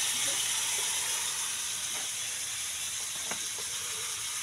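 Small shrimp and little crabs sauté in a pan with a steady, even hiss and a few faint clicks and pops, with no talking.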